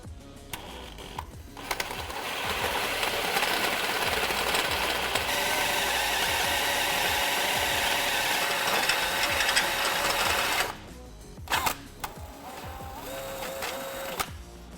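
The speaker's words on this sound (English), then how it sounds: "So we'll start drilling here." A power drill with a step bit grinds steadily through a steel steering knuckle on a Jeep Wrangler JK for about ten seconds, a loud continuous whine, then stops and restarts in brief bursts.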